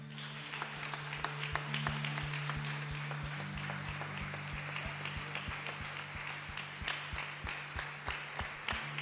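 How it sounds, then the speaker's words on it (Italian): A church congregation applauds during a worship service, a continuous wash of many clapping hands with distinct sharp claps, over a low sustained organ or keyboard tone. "Facciamo un applauso al nostro Signore"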